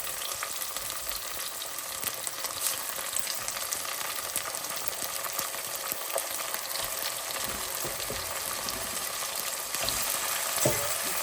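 Chicken pieces fry in a pot as the start of a tinola, a dense, steady close sizzle and crackle with occasional stirring clicks, quiet and continuous with no talking.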